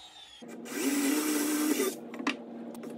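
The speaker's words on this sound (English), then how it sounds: "I'm just drilling a hole through the base at the correct radius" A power drill bores a hole through a wooden router base for a cyclone dust collector build, a steady whirring burst of about a second and a half rising over a low hum, then easing off with a short final buzz.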